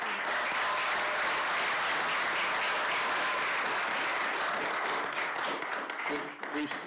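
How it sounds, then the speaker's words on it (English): An audience at a county board of commissioners meeting claps for a team of women, loud continuous clapping that holds steady throughout and thins out at the very end, with voices mixed in underneath. "A round of applause for them."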